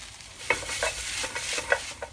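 Fresh okra, or bindi, frying with cumin seed and turmeric powder in a pan, a soft sizzle broken by a few sharp stirring clicks and scrapes, close and fairly quiet with no voices.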